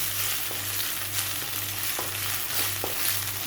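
Garlic fries in hot oil in a pan for prawn masala, giving a continuous loud sizzle with occasional spatula scrapes and a low pulsing hum underneath; no voices.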